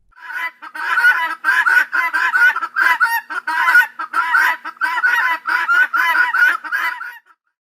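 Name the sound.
guinea fowl calling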